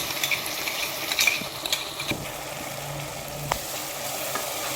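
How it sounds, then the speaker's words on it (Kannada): Masala and softened tomato frying in a pan, a quiet steady sizzle with occasional scrapes and clicks of a spoon stirring, close and alone without talk. "ಮಸಾಲೆನ ಫ್ರೈ ಮಾಡ್ಕೊಳ್ಳೋಣ."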